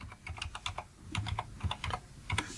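Rapid clicking of a computer keyboard during photo retouching work, with irregular bursts of keystrokes close by and short pauses between them, heard alone without talk.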